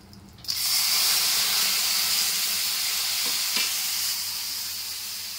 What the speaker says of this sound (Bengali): একটু হিং ফোড়ন দিচ্ছি। মূলো দিয়ে ডালটা ফোড়ন,